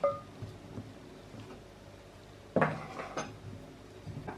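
Faint scraping and a few clinks of a utensil against a bowl while dry ingredients with baking powder and salt are stirred for bun dough, with one sharper clatter midway.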